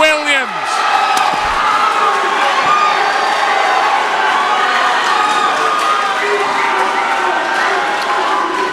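Boxing crowd at a fight night erupting right after a TKO win, a dense, loud wash of cheering, shouting and whistles that holds steady from start to finish with no clear voices standing out.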